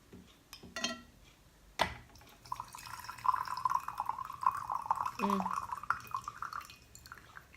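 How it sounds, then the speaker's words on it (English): Last drops of Golden Water Turtle Wuyi oolong tea shaken from a gaiwan during a gong fu tea session: a sharp ceramic knock, then a run of close, bright drips and trickling liquid that fade out. "With Wuyis, I really like to shake out every last drop."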